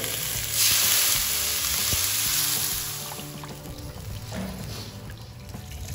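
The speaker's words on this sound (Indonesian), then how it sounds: "Masukkan air." Water poured into a hot pan holding torch ginger, galangal and ginger bursts into a loud sizzle, then settles into a steady, slightly quieter bubbling hiss with no voices.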